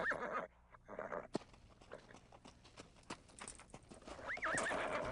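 An American quarter horse trots, its hooves clip-clopping in a steady rhythm, with a whinny near the end and faint background noise.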